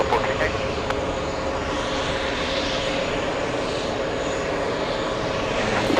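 Delta airliner taking off from JFK runway 22 right, a steady loud engine roar filling the scene, heard from the TWA Hotel, with radio voices talking over it.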